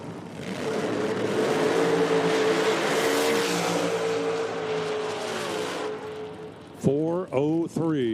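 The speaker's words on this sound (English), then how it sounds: "Two supercharged hot rods building a lot of heat down there." Two supercharged nitro hot rods at an IHRA drag race, a loud sustained roar of engines under the track announcer's talk, then sharp revving blips near the end.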